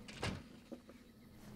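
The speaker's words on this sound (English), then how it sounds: "Here's a door." A door opening in the video game Fallout: New Vegas, heard as a brief low thud and creak followed by a softer second knock, standing alone over a faint steady game hum.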